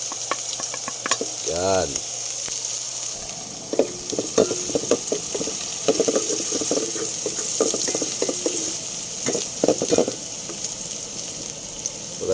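Onion and garlic sautéing in a pan with malunggay pods for sardines, a steady sizzle with clinks and scraping of stirring, and a brief voice near the start.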